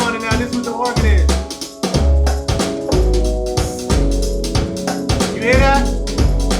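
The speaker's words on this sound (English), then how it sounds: "So when you put the organ on it now, this is what the organ is." A sustained organ plays chords over electric keys and a new jack swing beat, with thumping bass hits, crisp percussion and bright sliding accents at full, dense volume.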